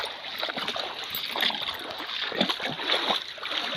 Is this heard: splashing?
yes